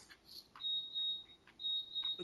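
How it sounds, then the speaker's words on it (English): An electronic alarm going off indoors: high, piercing steady beeps repeating in short bursts with gaps between, moderately loud, with no one speaking over it. "I went to add him and an alarm went off."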